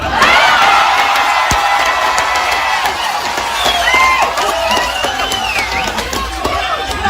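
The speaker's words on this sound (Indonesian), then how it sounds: "Yang terakhir harus kenceng tepuk tangannya, Zahid Mania." At a religious gathering, a large crowd erupts in loud, sustained cheering and applause, with whoops and shouts rising above the roar throughout.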